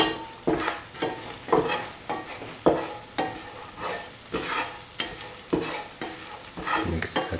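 Spoon stirring a dry prawn and green mango stew in a pan, with repeated scraping strokes at an irregular rhythm over a light sizzle, close and moderately loud, no talking.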